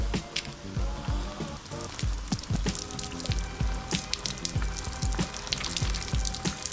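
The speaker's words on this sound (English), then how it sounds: "I'm gonna dump a bucket of water on myself" Water from a bucket splashes and patters steadily onto a Frogg Toggs rain jacket being worn, with scattered drips and pours spread across several seconds, fairly close and continuous.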